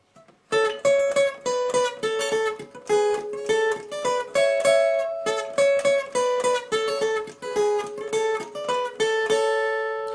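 An acoustic guitar plays a bright, repeating riff, quick chord stabs and melodic notes, steady rhythm, close and clear with no voices.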